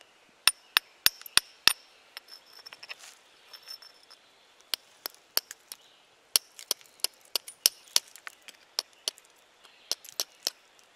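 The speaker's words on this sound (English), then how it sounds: "Not really whacking it very hard, just giving it little taps" Glass bottle being tapped lightly around its edge to knock it off for an arrowhead, a sharp, bright clinking in irregular bursts of quick taps with short pauses between, close and distinct.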